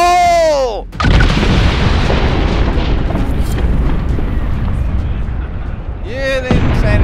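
A bomb in a fantasy video game detonates with a deep, loud boom that rolls on for several seconds, framed by brief voices before and after the blast.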